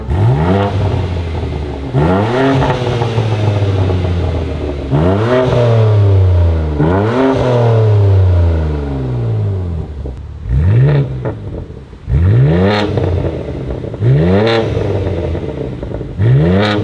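A BMW fitted with an AWE stainless switch path exhaust revs repeatedly up close, each blip rising sharply and falling back in a loud rhythmic series of about eight pulls, with no talking.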